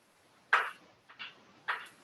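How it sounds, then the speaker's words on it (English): A phone ringing in another room of a home kitchen, three short bright electronic tones spaced unevenly, faint and somewhat distant with no talk over them. "The phone is ringing."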